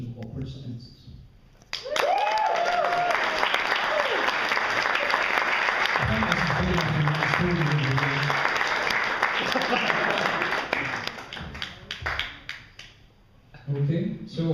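A wedding crowd applauds steadily for about ten seconds, dense and sustained, with talk and voices mixed in before the clapping fades out.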